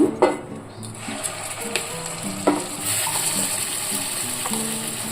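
Red chillies fry with turmeric, asafoetida and curry leaves for a red chilli tomato pickle, a steady close sizzle of hot oil with a spoon clinking and scraping against the pan now and then.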